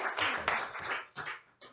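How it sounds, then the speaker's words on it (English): Small audience applauding for an encore at a piano performance at Bob's Barn in Lake Odessa, Michigan, a short burst of close, moderate clapping that thins out and breaks off. "Let's hear an applause for an encore."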